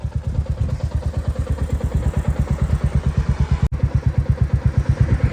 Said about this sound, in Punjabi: ਦੋ ਅਲੱਗ-ਅਲੱਗ ਮੋਟਰਸਾਈਕਲਾਂ ਦੇ ਉੱਪਰ ਜਾਣ ਦਾ ਇੱਕ ਨਜ਼ਾਰਾ ਵੱਖਰਾ ਹੀ ਹੁੰਦਾ